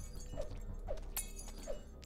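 Wine glasses shattering in the video game Freddy Spaghetti, three separate glassy breaks spaced irregularly, fairly soft against steady background game music.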